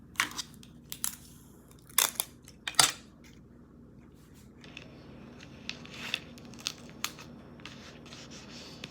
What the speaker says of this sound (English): and then tape it.